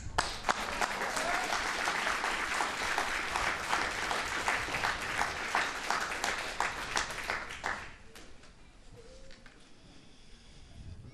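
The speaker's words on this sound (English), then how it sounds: "You can clap." An audience claps loudly and continuously at a police department awards ceremony, a steady wash of applause that fades out abruptly after about eight seconds, leaving quiet room tone.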